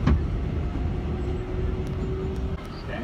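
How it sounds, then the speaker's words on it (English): Riding the New York City subway 7 train toward Queens: a steady low rumble and rolling clatter of the car, with a faint whine, some light knocks and a few short background sounds. "Just got on the 7 train."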